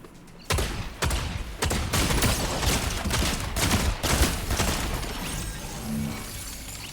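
Rapid gunfire erupts in a Fortnite match, a dense run of loud, close bursts and shots with sharp cracks and mechanical clatter, easing off toward the end.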